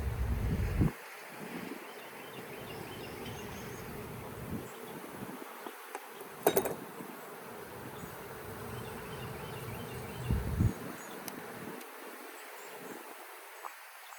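Honey bees buzz steadily at a hive that has just thrown a small swarm and is building queen cells; the drone is continuous and close, with occasional wind bumps and no voices.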